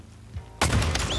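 One loud, sharp gunshot bursts out in The Last of Us Part II after a quiet moment and leaves a brief ringing tail.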